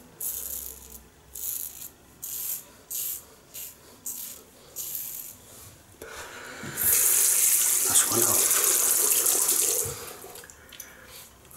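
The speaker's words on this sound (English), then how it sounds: "Okay, rinse off." A razor rinsed under a running tap, a burst of rushing faucet water in the second half following a stretch of quieter rhythmic sounds, close and moderately loud.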